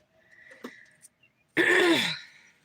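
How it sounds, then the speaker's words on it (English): A single rough throat clearing, close and fairly loud, follows a few faint scattered noises. "listen to me having to clear my throat"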